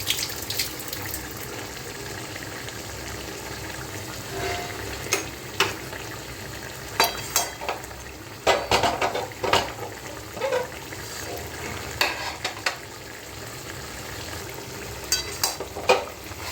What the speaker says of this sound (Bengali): মাঝে মাঝে একটু এরকম নেড়ে দিতে হবে, আর নয় নিচে লেগে যাবে